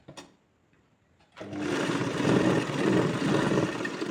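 A sewing machine stitches tucks on a frock sewn from an old dupatta, starting after a quiet moment and then running as a steady, close, continuous whir.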